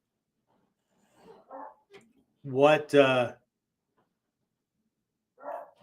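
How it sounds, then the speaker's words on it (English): Household dog barking and whimpering in short bursts, with one loud, close pair of barks in the middle and fainter yelps before and after; a brief word of speech occurs. "Apparently my wife is not keeping the dog quiet."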